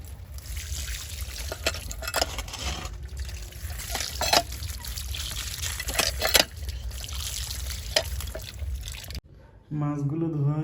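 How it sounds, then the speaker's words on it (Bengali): Cut fish pieces are rinsed in water, with a continuous splashing, trickling wash and a few louder sloshes, ending in a brief pause before a voice talks near the end. "ভালো করে মাছগুলোকে ধুয়ে নিতে হবে।"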